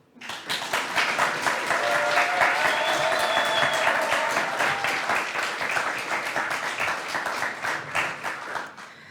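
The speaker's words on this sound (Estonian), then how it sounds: "Aplaus!" A hall full of people applauding at the ESTO 2019 Estonian national congress, dense clapping that rises quickly and continues for about nine seconds, with a few faint tonal squeaks mixed in before thinning slightly near the end.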